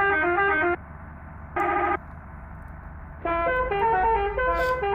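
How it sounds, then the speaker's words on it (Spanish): A bus horn in the video game Indonesia Bus Simulator sounds three times: a loud, tuneful multi-tone blast, a short toot, then a longer melodic run, over a low engine hum, with no talk. "vamos a ver el claxon"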